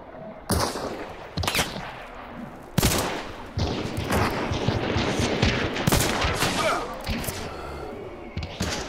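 Gunshots ring out in Hunt: Showdown, a few heavy single reports early on followed by a denser spell of firing, mid-distance and fairly strong over a rumbling backdrop.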